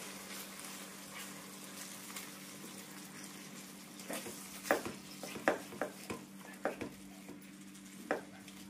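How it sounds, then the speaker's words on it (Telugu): Ginger garlic paste sizzles quietly in a pan as it is stirred, with soft steady frying and a few brief scraping clicks of the utensil near the end. "ఒక టీ స్పూన్ అల్లం వెల్లుల్లి పేస్ట్ వేసుకోండి. ఒకసారి బాగా కలుపుదాం."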